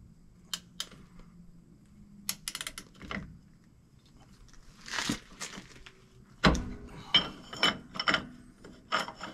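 A wheel bearing nut is tightened down, giving clusters of sharp metallic ratchet clicks and clanks, some loud and close, spread irregularly across a quiet shop background.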